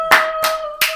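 A live studio crowd at a show gives three sharp, close bursts of clapping, each spaced roughly evenly apart over a steady background hum.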